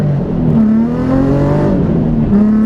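A new car slides through a long handbrake drift at a winter event, its engine droning and revving in a sustained, rising and falling pitch close to the microphone; no talking.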